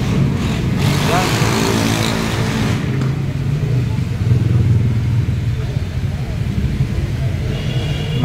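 Several motorcycles and other road vehicles rumble past near a school, a steady engine drone with rising revs throughout, while someone talks over the traffic noise.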